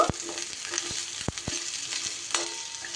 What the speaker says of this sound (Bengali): সবজিগুলো নাড়াচাড়া করতে করতে আমি একটা মশলার পেস্ট তৈরি করে নিয়ে চলে আসব।